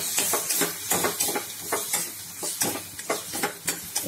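A spoon scrapes and stirs turmeric halwa with thickened milk in a pan, steady rhythmic strokes about twice a second over a soft sizzle, close and fairly clear.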